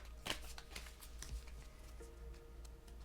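Tarot and oracle cards are shuffled in a quiet room, giving soft repeated papery riffles and light taps that stay faint against a low steady hum.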